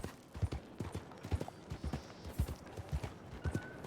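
Rhythmic hoof clip-clops of a horse at a steady walking pace, fairly close, with a faint whinny-like tone and light background ambience, in Red Dead Redemption 2.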